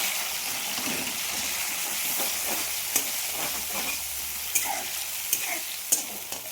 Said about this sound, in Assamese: তেলখিনি মই প্ৰথমতে ভাজি লৈছোঁ।